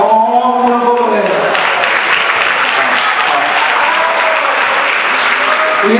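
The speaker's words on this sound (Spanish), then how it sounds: "Y vamos a aplaudir fuerte" Loud, dense audience applause fills a salsa festival hall steadily for the whole stretch, with a voice over the clapping near the start and again at the end.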